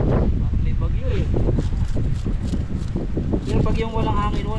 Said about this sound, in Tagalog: Grabe po, lakas ng hangin.